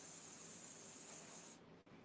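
Hair spray sprays in a steady, close hiss under hair lifted with netting during styling, lasting about a second and a half before cutting off.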